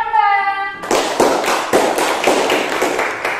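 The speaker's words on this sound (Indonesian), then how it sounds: "tepuk tangan untuk kelompok 2" A primary school class claps for group 2 in a classroom, a loud run of evenly spaced, rhythmic claps in unison that starts right after a brief voice.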